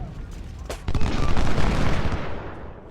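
Infantry musket salvo in Ultimate General: Civil War, a loud crackling volley of many shots bursting in together and rolling on for about two seconds over faint battlefield background.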